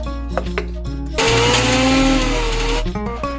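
An electric mixer grinder jar crushes coconut, tamarind, shallots, garlic and ginger in one loud, whirring burst lasting under two seconds, framed by quieter clinks and motor hum before and after.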